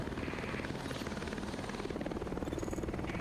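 An evacuation helicopter in the video game The Division gives off a steady, fast rotor chop and engine drone that holds constant and fairly close, with no talk.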